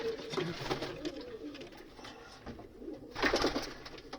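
Racing pigeons cooing inside a loft of breeding birds, soft repeated coos with a louder burst near the end, close by and without talk.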